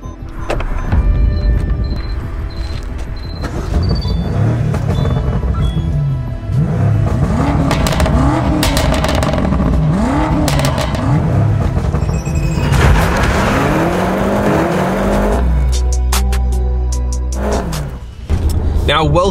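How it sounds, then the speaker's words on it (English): A powerful BMW M5 V8 turbo engine revs and accelerates continuously on open country roads, with rising and falling whines, crackles and pops, loud and close throughout. "V8 turbo, which seems to have a bit of a crackle to it"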